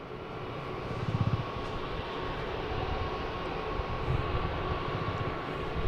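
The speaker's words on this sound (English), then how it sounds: "We have a JetBlue taking off, heading to JFK" A JetBlue airliner taking off from Boston Logan, bound for JFK, produces a continuous rumbling engine roar at moderate distance, steady in level with slight surges and no speech.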